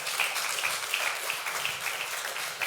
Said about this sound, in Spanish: Démosle un aplauso al Señor en esta mañana.